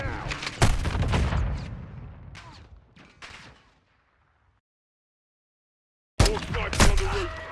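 Heavy gunfire on a building in Call of Duty: Modern Warfare 3, several loud booming shots and bursts in the first seconds fading into near silence, then more sharp blasts returning near the end.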